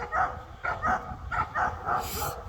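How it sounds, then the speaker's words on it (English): Two pet dogs outdoors during a morning hike, barking in a steady rhythm of short repeated barks, fairly close and moderately loud, with no talking. "Oh, there's the puppy dogs."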